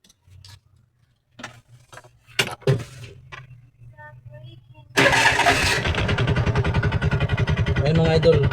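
A TVS King three-wheeler checked for a TMAP sensor fault starts after some clicks and a voice, its small engine catching abruptly and settling into a loud, steady, close idle.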